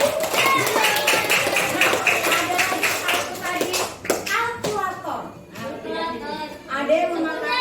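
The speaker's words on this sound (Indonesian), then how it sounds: "tepuk tangan untuk yang menjawab tersier" Classroom clapping for a student's correct answer: a short burst of rhythmic hand claps from children, then fading as young voices chatter and talk takes over.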